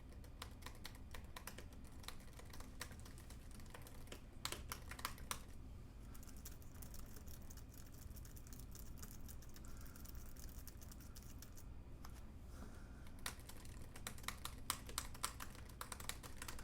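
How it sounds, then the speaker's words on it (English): Continuous brisk typing on a keyboard with metal switches, a dense stream of crisp clicky keystrokes with brief lulls, steady and alone without speech. "And here's what it sounds like with those metal switches."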